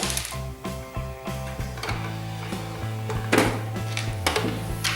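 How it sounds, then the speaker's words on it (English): Small screws tumble out of an upturned NES console case, a quick run of light metallic clicks and rattles against plastic, up close with a few clunks as the case is handled. "turn it over, let the screws fall"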